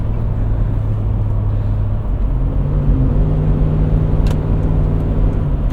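A 2000 Lexus LX 470 with the muffler deleted, its engine revving toward a 5,000 RPM redline: a loud, steady, deep exhaust drone with rising and holding engine tones, close by and without talk.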